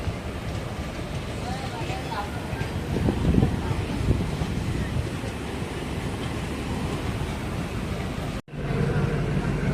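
A single-track passenger diesel train pulls away from Needamangalam junction, a steady rumble of wheels and wind close to the microphone, broken by a brief sharp drop near the end.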